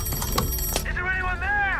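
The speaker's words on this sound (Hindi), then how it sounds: "फिर उसने फोन उठाया और कैप्टन एल्बर्ट स्मिथ को फोन लगा दिया।" Old ship's telephone on the Titanic ringing, a bright warbling bell trill over a rumbling background and spoken voices, close and steady for about a second.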